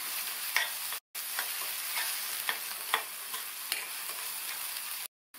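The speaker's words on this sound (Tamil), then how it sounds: "இந்த வெங்காயம் ஓரளவு கலர் மாறுற வரைக்கும் வதக்கிக்கணும்" Small onions and sliced garlic sautéing in a pan, a soft continuous sizzle broken by scraping stirs at irregular intervals, close up with no talking.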